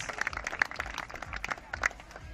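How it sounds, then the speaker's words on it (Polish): Scattered applause from a small crowd at an award ceremony of a youth football tournament in Czeladź, a few louder claps standing out over the steady patter. "Jest do odbioru piłka. Wielkie brawa."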